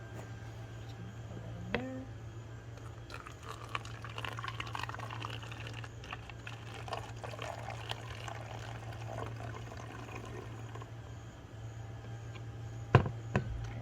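Half a cup of hydrogen peroxide is poured for an elephant toothpaste experiment: a faint, soft liquid trickle over a low steady hum, with a couple of small clinks near the start and end.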